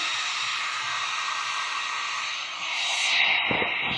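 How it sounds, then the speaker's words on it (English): A heat gun blows a steady, loud whooshing stream of hot air over resin poured on a glass and seashell Christmas tree, the airflow shifting in tone as it moves across the surface. "I'm going to hit this with my heat gun. Let's get her warm."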